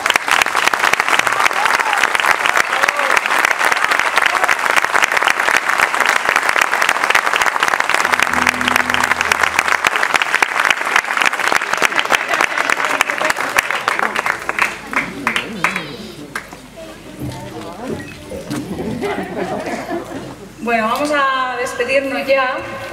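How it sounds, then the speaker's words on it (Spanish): Audience applauding artists at an outdoor night event in El Barco de Ávila, dense sustained clapping for about fifteen seconds that thins into scattered claps, then crowd voices and a person speaking. "Y ahora os dejo aplaudiendo a estos artistas"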